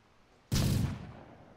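A thermobaric rocket blast in the military shooter Arma 3 strikes with a sudden loud, deep boom, then a rumbling tail fades over about a second against quiet ambience.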